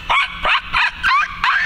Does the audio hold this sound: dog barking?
yes